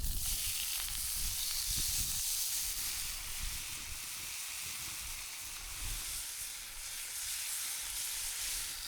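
Bacon sizzles in a pan at a campsite, a continuous bright crackling hiss that stays close and steady, with faint low rumbles underneath and no talk.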